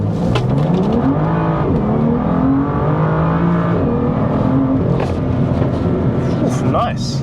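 BMW M2 on new Michelin PS4 tires in Sports Plus mode accelerating hard to 60 mph, engine note climbing steadily through the gears, loud and close, heard from inside the car with no talking.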